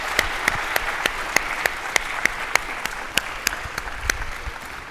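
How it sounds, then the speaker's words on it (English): An audience at a dairy industry meeting gives a producer panel a round of applause, sparse, fairly faint clapping with distinct sharp claps standing out over a steady roomy murmur. "let's give our producer panel a big round of applause"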